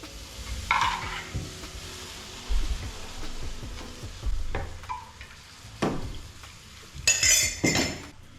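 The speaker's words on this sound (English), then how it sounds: "Just mix it up till it's a nice thick paste." A thick paste of vegetable broth being stirred in a pot for German-style creamed cabbage, heard as close scraping and knocking of a utensil against the pot, with a few louder clinks and bursts, in irregular spurts.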